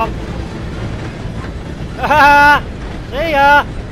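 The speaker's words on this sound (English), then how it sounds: "Gotta beat that train, Morgan." A train in Red Dead Redemption 2 sounds two loud, wailing whistle blasts over a steady rumble of wind and movement.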